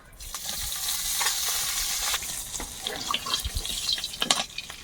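Neem leaves dropped into hot oil in a wok hiss and crackle in a steady, loud, close sizzle that continues throughout, with no talking.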